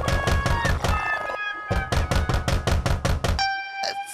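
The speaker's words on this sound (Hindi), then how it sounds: "साहब नींद में दरवाजा खटखटा रहे हैं।" Rapid, sharp knocks on a door come in two fast bursts over sustained musical tones, with a short pause between them.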